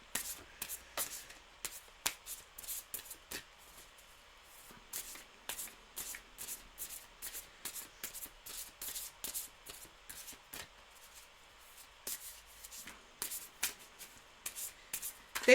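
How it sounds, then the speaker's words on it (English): Tarot cards are shuffled over and over in quick, crisp riffling bursts with short pauses between them, close and fairly quiet throughout, with no voices. "There've been long shuffles this stream though."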